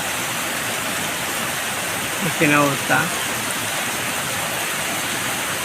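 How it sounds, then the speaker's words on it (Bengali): Heavy rain pours down in a steady, dense hiss, close and constant, with someone briefly speaking over it midway. "দেখেন কীভাবে বৃষ্টিগুলো পড়তেছে"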